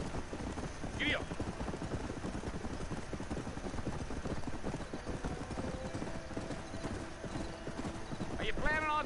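Horse galloping in Red Dead Redemption, rapid rhythmic hoofbeats on dirt throughout, with a couple of whinnies and voices talking over the riding.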